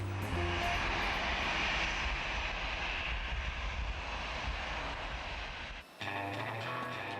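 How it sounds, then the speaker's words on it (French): Boeing 777 airliner engines on an Air France long-haul flight to Shanghai: a steady, loud, broadband roar that continues without a break before cutting abruptly near the end. "Aujourd'hui, départ pour Shanghai, à bord d'un 777, la perle des Boeing."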